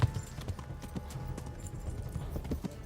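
Horse hooves clip-clop in a steady, quick rhythm as a mount runs in Kingdom Come: Deliverance, moderately close with faint thuds and rustle under the beat.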